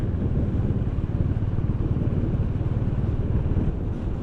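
Motorcycles ride along a road near Murud Janjeera, a steady loud engine drone with a throbbing pulse that continues throughout, close and without talking.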